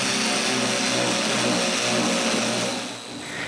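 Power sander running on a wooden bathroom vanity cabinet after glued strips have dried, a continuous loud whirring drone that holds steady, then briefly dips near the end.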